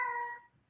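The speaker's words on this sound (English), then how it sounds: "And that's my cat." House cat giving one short, clear meow close by, annoyed at a closed door, fading out after about half a second.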